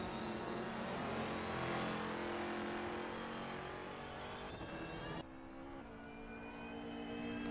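A small race car engine roars in a racing video game at Virginia, holding a high revving drone that eases slightly before a gear change drops the pitch, loud and without talk.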